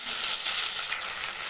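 Ground spice paste hits hot oil in a pan with whole cumin, giving a loud, steady close-up sizzle and crackle that fills the short moment with no talk.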